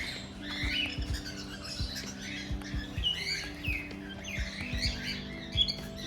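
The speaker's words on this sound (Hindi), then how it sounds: "ये काकाटील है।" Cockatiels at Lucknow Zoo give repeated high chirps and tweets in a busy aviary, with a steady low tonal hum and soft tapping beneath and no talking.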